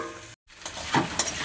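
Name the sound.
Malabar spinach frying in bhetki fish oil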